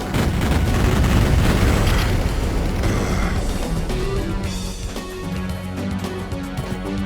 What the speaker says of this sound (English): Let me shoot them and see what happens.